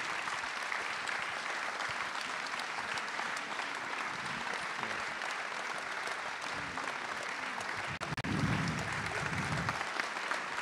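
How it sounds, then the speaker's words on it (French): An audience applauds young municipal councillors at a New Year civic gathering in Yerres, France: sustained, moderately distant clapping from a crowd of many hands, steady throughout, with a brief fuller swell near the end. "Vos applaudissements pour eux, s'il vous plaît, messieurs, dames."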